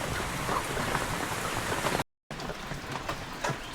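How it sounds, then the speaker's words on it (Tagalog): Heavy rain pours down in a dense, steady hiss, broken by a brief moment of silence before the downpour continues. "Dahil malakas ang ulan mga kaprobinsya"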